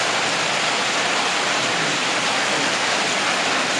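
Steady rain falls in a dense, unbroken hiss that stays loud and even throughout, with no voices over it.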